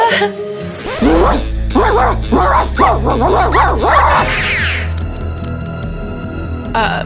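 A dog barks in a quick series of loud, close yips and woofs, several sharp barks in a row, then quiets as the household noise continues.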